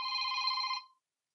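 A single telephone ring, a bright steady electronic bell tone lasting under a second, sounds close and clear before cutting to silence.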